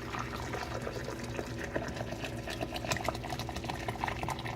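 Hot water from a tea kettle pours steadily into a container for Southern-style sweet tea, a continuous close splashing and gurgling with no talk.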